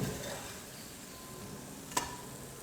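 Potato, carrot and egg snacks fry on a flat dosa griddle with a steady, soft sizzle throughout, broken by one sharp scrape or tap of a spatula near the end.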